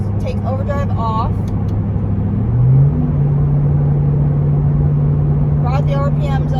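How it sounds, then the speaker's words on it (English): Car fitted with a Roush Extreme axle-back exhaust, held at higher RPM, giving a loud, steady, deep drone that rises slightly in pitch partway through and keeps going, with brief speech at the start and end. "Brought the RPMs up, obviously louder."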